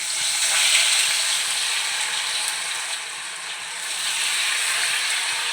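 Chicken kebab pieces for chilli chicken frying in hot oil in a pan, a steady broadband sizzle and hiss that stays loud and continuous throughout, with no talking.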